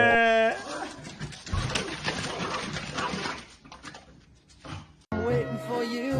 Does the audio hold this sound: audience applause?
no